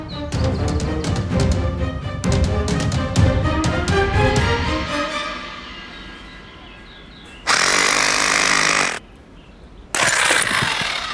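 An electric drill machine runs loudly and close with a rough, throbbing buzz that fades after a few seconds, then cuts in again in two sharp, steady bursts separated by a short pause, with no voices.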